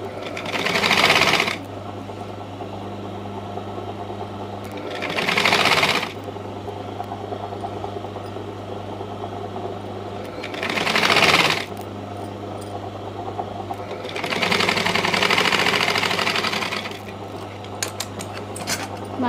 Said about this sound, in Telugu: మళ్ళీ ఒకసారి పైనుండి ఇంకొక కుట్టు వేసుకోవాలి.